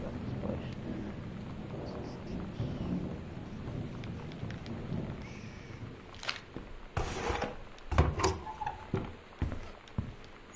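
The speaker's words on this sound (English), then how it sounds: "This rainy weather and stuff ain't looking anything better about this place." Steady rain patters throughout in the video game Gone Home, with rumbles and sharper cracks of thunder building toward the end, heard without talk.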